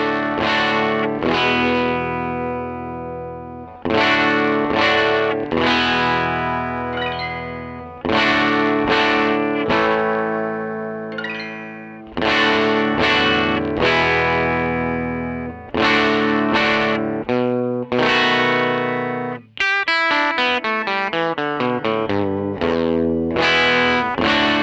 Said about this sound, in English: So, Jesse, give us a little demo of what a 57 Fender Vibrolux sounds like